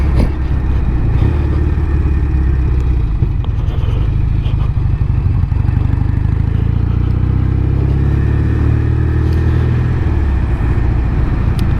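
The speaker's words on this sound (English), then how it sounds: "It's a real nice bike." A Norton Commando 850 MK2, a classic British motorcycle, runs steadily up close with a loud, continuous low engine rumble and mechanical clatter, and no voices.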